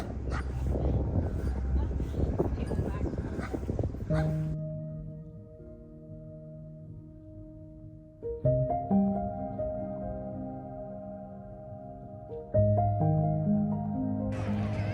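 A dog in a graveyard gives a few sharp barks and yips at first, then drawn-out tonal whimpers and howl-like whines follow in long, wavering stretches, fairly close and clear.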